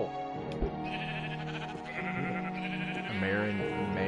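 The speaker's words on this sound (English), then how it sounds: "There's another sheep." Sheep in the video game Minecraft bleat in a few wavering, nasal cries that run together over a few seconds, close and fairly loud.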